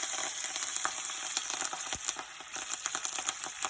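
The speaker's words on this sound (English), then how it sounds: "So here I am adding the fresh curry leaves." Fresh curry leaves hit hot oil with chana dal in a pan for hotel-style masala dosa, a steady close sizzle with scattered crackling pops.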